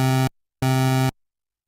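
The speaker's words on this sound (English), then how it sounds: "you get 4 identical waveforms being produced with one oscillator," Synthesizer note from one pulse wave oscillator stacked with 4 identical voices, played twice as two short, steady, buzzy tones separated by silence.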